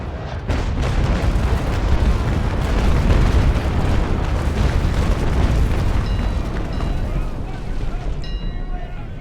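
Ship cannons firing in the Naval Action naval combat game, a dense, sustained roar of booming broadside blasts rolling together for several seconds, loud and continuous with no talk over it.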